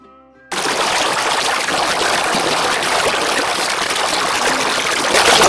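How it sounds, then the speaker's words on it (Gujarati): Water gushing steadily on a farm, likely through an irrigation channel or from a pipe, a loud, close, continuous rushing and splashing with no voices. "જે આ પાણીનો જે અવાજ ખાલી એકવાર અવાજ સાંભળજો તમે લોકો"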